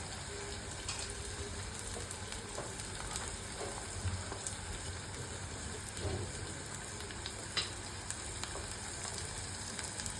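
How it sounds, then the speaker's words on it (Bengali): Onions frying in a pan for a beef head meat curry, a continuous close crackling sizzle with small pops and an occasional stir, no voices. "আমি পেঁয়াজ ভেজে নিচ্ছি"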